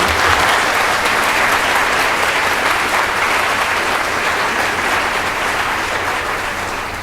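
Steady, full applause from the audience at a high school spring orchestra concert, a dense even wash of clapping that holds for several seconds and tapers slightly toward the end.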